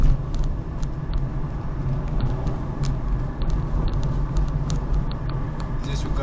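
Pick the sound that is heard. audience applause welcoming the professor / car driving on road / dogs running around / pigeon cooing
car driving on road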